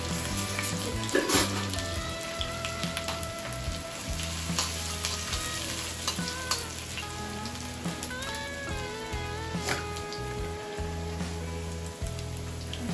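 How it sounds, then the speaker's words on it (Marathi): Ginger and garlic fry in hot oil in a pan for a spicy homemade keema. A steady, close crackling sizzle runs throughout, with faint stirring scrapes. "पहिल्यांदा आपण टाकतोय अद्रक आणि लसूण. मस्तपैकी आवाज येतोय."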